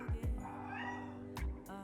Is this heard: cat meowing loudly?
yes